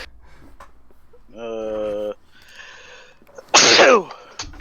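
A single loud, close sneeze bursts out near the end, preceded by quieter voiced sounds and a sharp intake.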